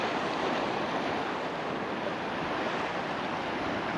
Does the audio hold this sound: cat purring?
no